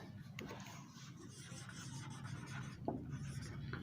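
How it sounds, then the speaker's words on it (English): A pen scratches across paper as an answer is written out by hand in a school lesson, a soft close scribbling that runs continuously at low volume. "so let's write the answer"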